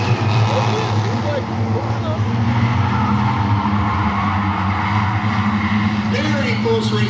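Race cars roar close together through turn four, a dense continuous engine drone with occasional tire noise, loud and steady under an excited commentator's voice.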